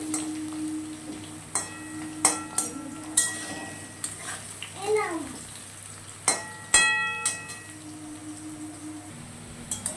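Potatoes frying in hot oil in a home kitchen give a soft, even sizzle, overlaid by scattered clinks and scrapes of a utensil against the pan and a brief rising whine near the middle; no one speaks.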